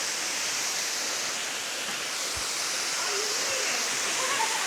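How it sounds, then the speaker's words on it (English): Bonita Falls waterfall in Lytle Creek, San Bernardino National Forest, a steady broadband rush of falling water heard close and continuous throughout. "It's a beautiful waterfall."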